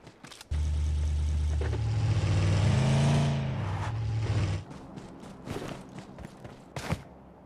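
A vehicle engine roars while driving in a video game, a loud low drone that rises and holds for a few seconds, then cuts off, leaving scattered clicks and thuds.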